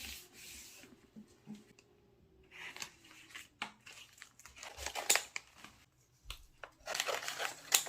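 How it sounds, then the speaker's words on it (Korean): Scissors cut through newspaper in close, quiet bursts of crisp snipping, rustling and crinkling paper, with short pauses between cuts. "신문지를 이렇게 잘라주세요 이렇게 해서 한 번 더 잘라주세요"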